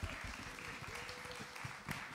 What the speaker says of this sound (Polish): Witamy ją bardzo serdecznie brawami.